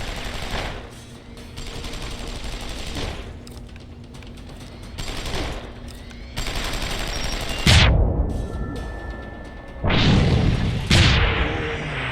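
Gunfire in the video game Deus Ex: Human Revolution: bursts of rapid automatic shots separated by short pauses, loud and close, with mechanical clicks and gear sounds between volleys and no talking.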